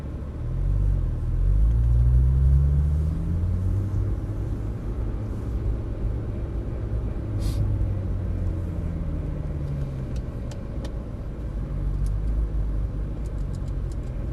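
A Porsche Turbo S driving laps around a track laid out in a parking lot, its engine a steady low rumble from inside the cabin with a brief swell early on, otherwise even and droning.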